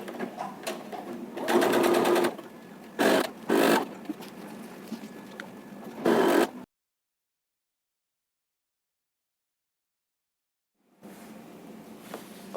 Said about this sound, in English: So I will just sew that right across.